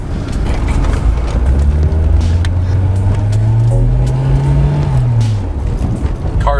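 A Volvo 780 Bertone turbo with its boost raised from 4 to 10 pounds pulls hard, its loud steady engine drone rising in pitch through a long gear, heard from inside with heavy road and wind roar.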